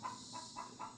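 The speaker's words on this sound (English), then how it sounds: "one of my chickens is having a conniption fit" A backyard chicken squawks in four quick, evenly spaced bursts, faint and somewhat distant, in a barn setting.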